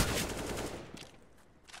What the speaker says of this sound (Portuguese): Agora se dá tiro na fumaça.